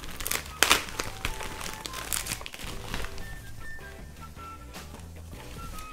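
Close, crinkly rustling and crackling of plastic and paper packaging as an ITIAN A18 wireless phone charger is unwrapped, with irregular bursts of crumpling that grow softer toward the end.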